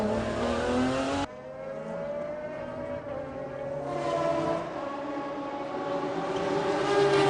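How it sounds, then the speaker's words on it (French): McLaren race car at the 1997 Le Mans 24 Hours, its engine screaming at high revs, then a rising and falling roar as it shifts gears and accelerates past, loud and close. "Voici la McLaren de Gary Hayes qui effectue un superbe début"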